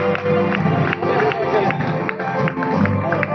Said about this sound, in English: let's give a thunderous round of applause for N.S.Saravanan and Bharati